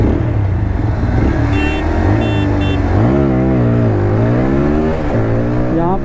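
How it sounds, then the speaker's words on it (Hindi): A 2024 TVS Apache RTR 160 4V and a Pulsar NS160 accelerate hard in a drag race, their engines roaring loud and close, pitch climbing and dropping back with each gear change. "चलो बिना देरी के भाई बाइक को भगाते हैं और टॉप स्पीड देखते हैं"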